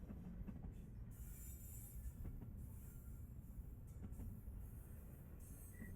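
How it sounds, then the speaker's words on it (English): A train passes in the video game The Raintime, giving a continuous low rumble of railcars with high squealing wheels and faint rhythmic clicking, steady and fairly distant throughout. "where a train goes by."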